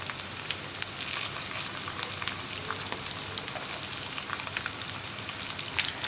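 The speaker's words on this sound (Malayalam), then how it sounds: "കണ്ടോ, വേഗം തന്നെ ഫ്രൈ ആയി വരുന്നുണ്ട്." Paneer pieces fry in hot oil for chilli paneer, a dense, steady sizzle with crackling pops scattered throughout, close and continuous.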